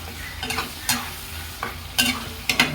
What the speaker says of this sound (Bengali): মশলা প্রায় কষানো হয়ে গেছে আমার, টক দইটাও দিয়ে দিয়েছি